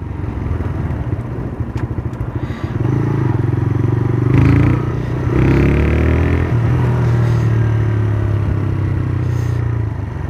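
A TVS Raider 125cc motorcycle rides in third gear, its engine humming steadily up close and swelling slightly as it pulls, with light mechanical clatter and no talking.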